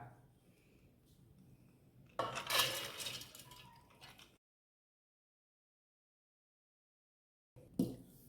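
Onion and lentils being crushed for parippu vada, a close, rough grinding and scraping burst, a long silent gap, then another brief crush at the end.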